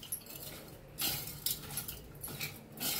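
A spoon clinks and scrapes against a bowl while cabbage koshimbir salad is tossed, several close metallic taps and rustles at an uneven rhythm, with no talk.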